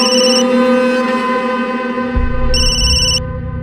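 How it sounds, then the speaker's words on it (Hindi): A phone ringtone plays a bright electronic melody with bursts of high beeping tones, loud and near, over a soft tonal background and a low rumble in the final second. "किसका फोन था?"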